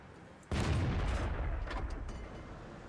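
A tank cannon in World of Tanks fires one loud, sudden booming shot that cuts in abruptly and rolls off in a rumbling tail over a few seconds.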